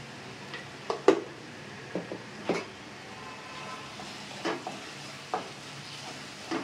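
Eggplant fry with chili powder is stirred in a pan, giving quiet, intermittent scraping taps and clicks over a faint low sizzle, with no talking.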